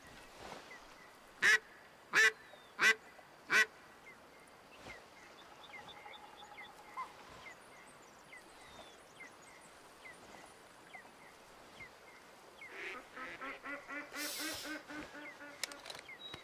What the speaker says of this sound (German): Ganz viele Enten.